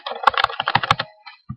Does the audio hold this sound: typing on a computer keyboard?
yes